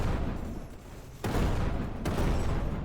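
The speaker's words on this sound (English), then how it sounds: "Hope you like loud explosions, because we're in the loud explosion zone again." Loud explosions in the video game Dark Gravity: dense, rumbling booms in continuous barrages, with two sharp blasts punching through the roar, heavy and close with no talk.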